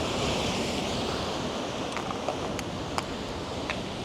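Steady broadband rush of water running beside a cliff, continuous and fairly loud, with a few faint clicks and splashes over the flow and no talking.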